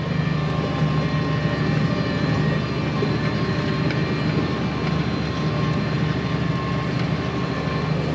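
A baler runs steadily while taking in grass silage, a continuous loud mechanical drone and rumble with no break, heard close by and without talk.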